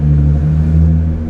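A Nissan GTR's turbocharged engine rumbles close by with a steady low drone and a faint whir riding over it, continuous and loud throughout.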